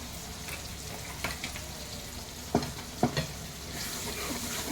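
Cooked dal of vakkaya (karonda) poured into a sizzling tempering of seeds and stirred, giving a steady fry hiss with a few sharp spoon clacks against the pan near the middle, no voices.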